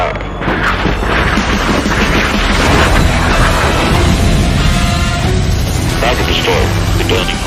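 Heavy rapid gunfire and booming blasts from a Prachand attack helicopter striking a convoy of tanks and trucks, a dense continuous roar of shots and explosions with rumbling impacts, loud and sustained throughout.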